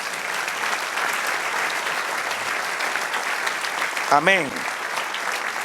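A church congregation applauds in a sustained, loud wash of clapping that fills the space, with a preacher's brief spoken response near the end.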